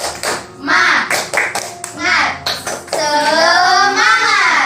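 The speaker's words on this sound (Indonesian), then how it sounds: "Tepuk semangat." Children in a classroom performing a rhythmic clapping chant, bursts of group clapping alternating with chanted voices, loud and close, ending in a sustained shout.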